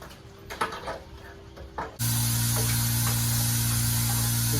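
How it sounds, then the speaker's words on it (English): An air compressor kicks on partway through while a 1989 GL 1500 gas tank is being cleaned, its steady loud motor drone with a strong low hum running continuously after some quieter shop clatter. "air compressor."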